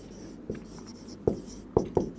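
Marker or chalk tapping and scratching on a board while a coding-decoding reasoning answer is written out, a few sharp strokes and taps spaced irregularly over quiet room tone.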